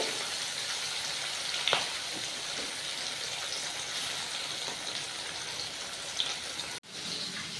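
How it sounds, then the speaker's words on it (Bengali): Four rupchanda (pomfret) fish frying in oil in a pan, a soft steady sizzle with a couple of faint clinks and a brief drop near the end. "4টে মাছ তো একবারেই আমি ভেজে নেবো।"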